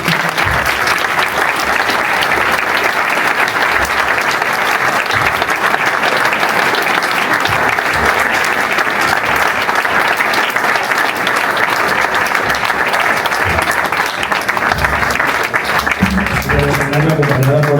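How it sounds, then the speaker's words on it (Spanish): Sustained loud applause from an audience at a Día de Cantabria festival proclamation in Cabezón de la Sal, greeting a representative of the Virgen del Campo dance group; steady, dense clapping fills the whole stretch, with a brief tonal sound near the end. "Vamos a darle un fuerte aplauso"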